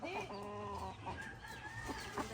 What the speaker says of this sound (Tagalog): Oh, marami mga manok dito eh.